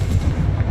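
A Confringo spell blast in Hogwarts Legacy, a dense low booming burst that rumbles loud and close through the whole short moment without a clear break.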